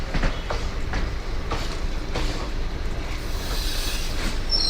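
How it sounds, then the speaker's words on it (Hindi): An express train rolls along steadily near Jodhpur railway station, with rumbling noise and periodic clicking of wheels over rail joints, plus a faint squeal near the end. "Train is arriving at Jodhpur railway station."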